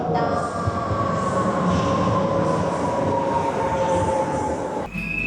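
Inside a passenger train in Poland: a steady, loud rumble of wheels and carriage with a sustained high whine, ending in a brief clunk and shift near the end.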